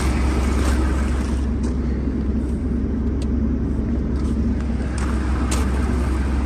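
Truck engine idling and gently feathered to creep out of mud at an RV park, a constant deep low rumble with little change in pitch, steady and close, no talk.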